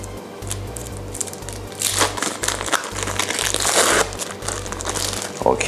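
Cheddar sandwich cheese packaging is torn open by hand, making steady crinkling and crackling of plastic wrapper for several seconds, close and fairly loud, with a short sharp rustle near the end; no speech over it.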